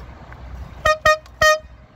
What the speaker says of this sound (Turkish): Ver bir korna.